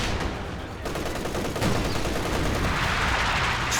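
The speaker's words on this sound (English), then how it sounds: "Force firing the sandbags, trying to destroy them." Continuous rifle and machine-gun fire in the Company of Heroes 2 battle game, troops force-firing at sandbags, a dense rattling barrage that swells louder toward the end.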